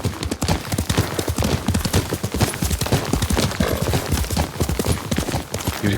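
Horse hooves clip-clop in the video game Ghost of Tsushima, a rapid, steady run of close, crisp hoofbeats over a low ambient bed, continuous and fairly loud.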